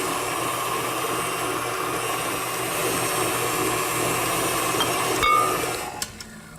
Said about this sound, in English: then you can beat in your eggs